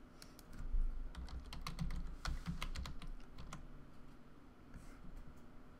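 Someone types a command on a computer keyboard during a web app database update. Quick bursts of close, crisp key clicks come in an uneven rhythm, then trail off into quiet room tone.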